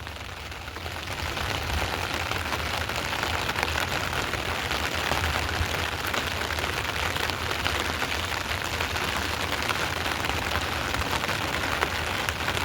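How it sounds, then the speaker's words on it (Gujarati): Heavy rain pours down on surfaces during a downpour, a dense continuous hiss of drops that builds over the first second and then holds steady and close with no voices. "એવું તો બધે વરસાદ છે"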